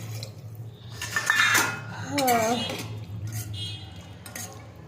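A metal lid is set onto a cooking pot of mutton soup after water is added, giving a couple of clanks and scrapes of metal on metal, close by, while a person talks.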